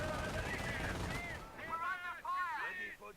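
Rumbling, crackling artillery and mortar fire from a World War II tactical war video game fills the first second and a half, loud and dense, before a voice talks over quieter battle noise.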